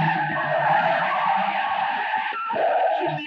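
Car in an old Turkish film chase scene, tires squealing and skidding loudly with engine roar, continuous for a few seconds.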